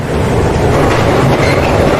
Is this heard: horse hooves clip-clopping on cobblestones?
no